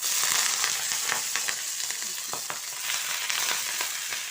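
Food frying in a pan, a steady bright sizzle running throughout with scattered small pops and stirring scrapes, close and fairly loud, no voices.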